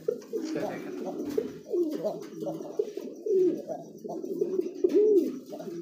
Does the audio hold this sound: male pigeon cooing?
yes